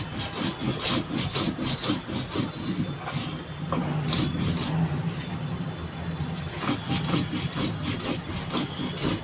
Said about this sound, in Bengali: তো বন্ধুরা মশলাটা বেটে নেব মিহি করে।